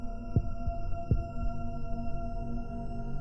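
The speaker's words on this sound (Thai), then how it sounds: "มันมีเสียงหัวใจเต้นตุบตับ ตุบตับด้วยอะ" A heartbeat in the horror video game Creepy Tale, a couple of soft low thumps over a steady humming ambient drone, faint and without talking.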